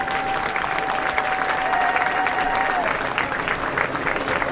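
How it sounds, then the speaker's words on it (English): A crowd at a Pasadena City College marching band showcase applauds the band boosters with dense, steady clapping that fills the whole stretch, and a thin sustained whistle-like tone runs through the first part. "can we have a round of applause for all of the boosters?"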